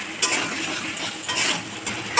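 Prawns fry in a pan with salt and turmeric while a utensil stirs them, giving soft continuous sizzling broken by light scraping and clinking taps at irregular intervals.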